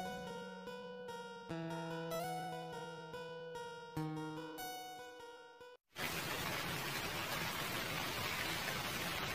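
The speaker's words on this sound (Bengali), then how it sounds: "বাইরে কি বৃষ্টি হচ্ছে আর কত জোরে জোরে বিদ্যুৎ চমকাচ্ছে" Cartoon rain arrives after a stretch of plinking musical notes, then falls as a loud, even wash of hissing noise that continues without a break to the end.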